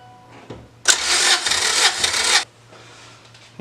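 A Honda Integra GSR engine cranks during a compression test, a rough, rhythmic starter churn lasting about one and a half seconds before cutting off, with no start.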